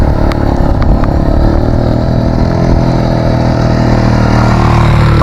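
A motorcycle engine runs steadily at close range as the bike crosses deep water at Estanza Beach in Lingayen, Pangasinan, with a continuous mid-pitched drone and light splashing throughout.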